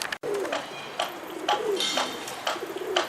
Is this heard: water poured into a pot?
no